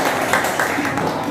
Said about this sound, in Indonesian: Sebelumnya saya ingin semuanya tepuk tangan dong untuk Bang Minola Sembayang.